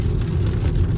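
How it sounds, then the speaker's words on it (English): Rain drumming on a BYD Dolphin electric car during a road trip between Kathmandu and Pokhara, a dense steady patter over low road rumble, with no talk. "it started raining on us at this end of the trip"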